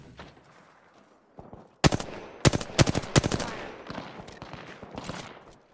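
Gunfire in a ranked match of a shooter video game, with a burst of sharp automatic shots followed by several more loud bursts, set against quieter background game noise.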